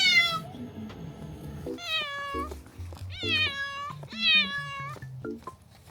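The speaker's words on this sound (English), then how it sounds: "Bringing the cats to the vet for their annual vaccine." Several cats meow repeatedly, loud and close, in drawn-out rising and falling calls in a vehicle on the way to the vet for vaccines, with a low engine rumble underneath and no talk.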